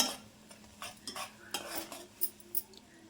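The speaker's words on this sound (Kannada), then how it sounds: "ಸೊ ಒಂದು 2 ಅವರ್ಸ್ ಚೆನ್ನಾಗಿ ಕುದಿಸ್ಕೋಬೇಕು ಫ್ರೆಂಡ್ಸ್. ಕುದಿಸ್ಕೊಳ್ಳಿ, ಅವಾಗ ನೀಟಾಗಿ ರಸ ಬಿಡ್ತಾ ಬರುತ್ತೆ." A utensil clinks and scrapes as it stirs homemade face oil boiling in a pot, with a series of short metallic taps and a soft sizzle at close range.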